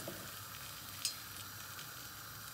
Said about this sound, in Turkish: Yemeğimizin önce patateslerini kızartıyorum